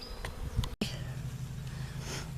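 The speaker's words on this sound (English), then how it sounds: "the bees are very in love with the sugar water" Honey bees buzz around a homemade sugar water feeder, a faint steady low drone with brief wingbeat whines flitting past, broken by a sharp momentary dropout near the start.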